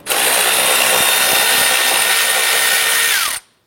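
Power tool spinning off a nut, a loud steady high-pitched whir held for over three seconds, close up, then cutting out abruptly and winding down, with no voices.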